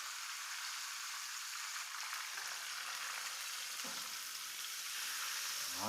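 Dawa fish frying until crispy in a pan, with a steady, dense hiss of sizzling oil that runs loud and unbroken throughout, close by and with no talking.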